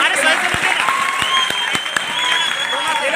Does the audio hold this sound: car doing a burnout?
no